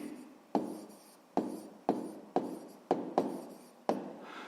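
A pen writes in a notebook during a sixth-grade maths exercise, giving a series of sharp taps and short scratchy strokes, about seven in an irregular rhythm, close and quiet with no talk.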